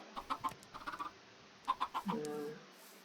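Minecraft chickens cluck in quick bursts of three or four short notes, repeating in small groups with pauses, ending in a longer drawn-out squawk, faint and without talk.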